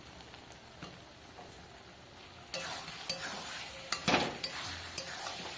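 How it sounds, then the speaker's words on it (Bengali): Fried potatoes being sautéed in fish curry masala for a boal fish curry, with steady sizzling that rises halfway through as stirring scrapes and clacks against the pan at close range. "ভাজা আলুগুলো দিয়ে আর একটু বেশ কষিয়ে নেব।"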